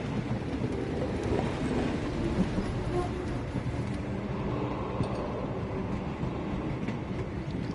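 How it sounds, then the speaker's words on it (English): A train rolls along in the Sherlock Holmes: The Awakened video game, a steady, dense low rumble with faint rail clatter running evenly throughout at constant loudness. "If we hurry, we can still catch tonight's train."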